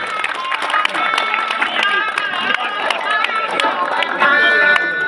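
A crowd at the opening of a dhalai tennis-ball tournament claps steadily and dense throughout, an unbroken wash of applause with a voice speaking over it.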